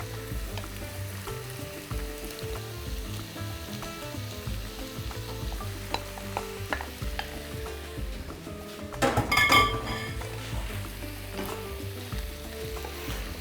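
Mushrooms sizzle steadily after being returned to a frying pan alongside roasted cauliflower, a continuous frying hiss with occasional utensil clinks and a brief louder clatter of stirring partway through.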